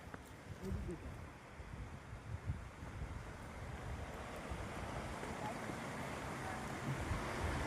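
A steady broad rushing roar of a river pouring over Motijharna waterfall in Jharkhand fills the whole stretch, with faint gusts of wind buffeting the microphone.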